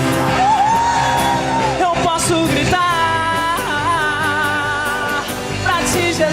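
A church congregation shouts and cheers loudly and continuously during worship, with music playing underneath and a voice carrying over the crowd.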